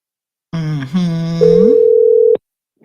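A steady electronic telephone tone hums on alone for about a second after a brief wavering start, then cuts off abruptly.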